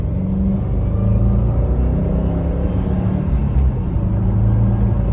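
A Subaru STI engine accelerates in SI Drive Sport Sharp mode, a loud continuous low rumble with steady engine drone building smoothly inside the car, without talk.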